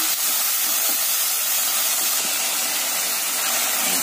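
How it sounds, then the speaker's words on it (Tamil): Chopped tomatoes sautéing in a pan with onions for a mint chicken gravy, giving a steady, close hiss and sizzle with no talk. "அடுத்து தக்காளியை போடுறேன். அதையும் நல்லா வதக்கிக்கலாம்."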